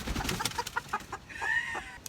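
A broody, bad-tempered hen clucks in a short run of close, rhythmic clucks, ending in a longer drawn-out squawk.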